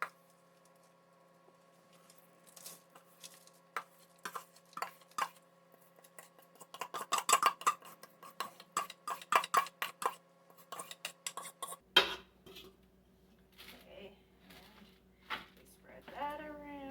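Spoon scraping and tapping as homemade granola is divided between two cookie sheets in a home kitchen, a string of light clinks and scratchy pats, close and soft, with a voice talking near the end.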